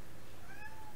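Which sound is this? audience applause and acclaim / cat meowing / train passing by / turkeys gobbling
cat meowing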